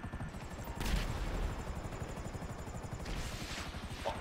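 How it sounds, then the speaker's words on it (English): Helicopter rotor chop in GTA 5 Online, a steady close thumping throbbing through the whole stretch amid bursts of gunfire, with no talking. "let's ditch this helicopter at the right moment"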